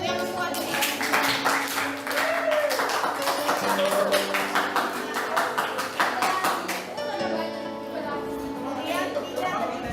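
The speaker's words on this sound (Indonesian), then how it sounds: "Tepuk tangan dulu untuk yang kuat ini" Students clapping in a classroom, with a brisk, dense round of applause under a talking voice that runs throughout.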